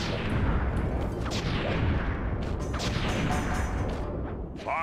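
Firework explosions burst from a fiery combat attack in the Sly 3 video game, a dense, loud barrage of booms and crackling blasts that overlap continuously, with whooshing streaks and a sharp sweep at the close.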